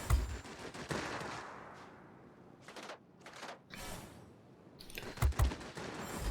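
Aircraft guns in World of Warplanes fire at a Corsair in several bursts of rapid gunfire, loud at the start and again near the end, with fainter bursts between over a low engine drone.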